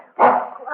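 A dog barks once, a short loud woof mid-range, close by and alone, in an old-time radio detective mystery drama.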